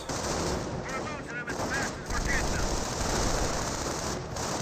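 Rifleman squads laying down suppressive fire in the strategy game Company of Heroes, a dense, continuous rattle of gunfire and battle noise running the whole stretch, with brief chirping effects layered in, loud and busy without pause.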